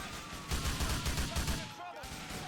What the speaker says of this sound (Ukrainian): Там ззаді, блін, по мені хтось стріляє.